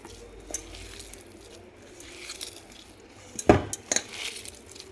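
Fish mixture for fish 65 being mashed and squeezed by hand in a bowl, giving soft irregular squelches with a few sharper clinks of the bowl, the loudest burst near the end.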